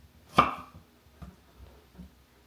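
A knife slices through vegetables on a cutting board with one crisp, prominent cut, followed by a few softer, quieter taps, close by in a quiet kitchen.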